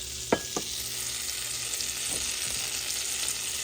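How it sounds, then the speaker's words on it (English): Butter melts in a frying pan beside Spam, a soft continuous sizzle with a couple of small knocks near the start, no talking. "I'm gonna melt some butter"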